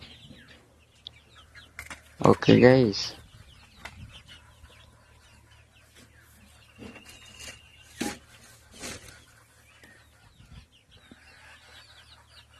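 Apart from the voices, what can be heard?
chickens clucking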